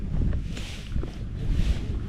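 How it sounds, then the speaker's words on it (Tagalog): Strong wind gusting across the shore of Caliraya Lake in Laguna, a steady broadband rush with low rumbling buffets against the microphone throughout. "ngayon malakas naman ang hangin"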